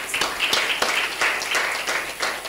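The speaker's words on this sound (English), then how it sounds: "please let's give them a round of applause for their commitment" An audience at an International Day of the Girl Child event claps in a steady round of applause, a dense patter of many hands with a few louder individual claps, lasting a couple of seconds without speech.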